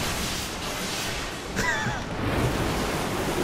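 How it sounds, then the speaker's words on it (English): Water rushes in BioShock 2 as a constant broad roar that swells slightly, with a brief whistling sweep partway through and no voices. "Oh no, it's water."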